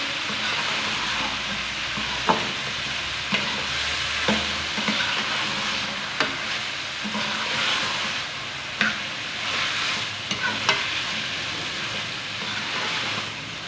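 Vegetables, optionally potatoes and peas, stir-frying in a pan for veg and egg fried rice: a constant close sizzle punctuated by sharp clacks and scrapes of the spatula at irregular intervals, with no voices.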